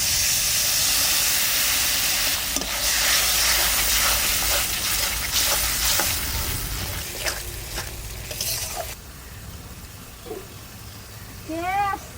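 Spiced masala water poured into a hot pan of frying masala, a loud steady sizzle and hiss that gradually quietens as the liquid settles, with a few light clinks and brief bird-like chirps near the end.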